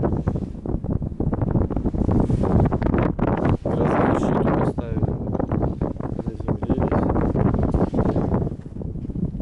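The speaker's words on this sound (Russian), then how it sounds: "опять ветер поднялся, но поправил камеру" Strong wind gusts buffet the microphone atop an 85-metre mast in a forest, a loud, rough rushing that rises and falls continuously while someone talks over it.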